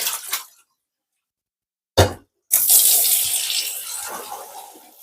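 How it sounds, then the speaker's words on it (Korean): Dried chwinamul greens get rinsed in cold water in a bowl, with a short splash, a pause, a brief slosh, then a longer burst of running and splashing water that slowly fades, close and without talk. "세 번 정도 찬물에 헹궈주면 됩니다"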